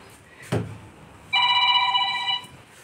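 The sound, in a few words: telephone ringing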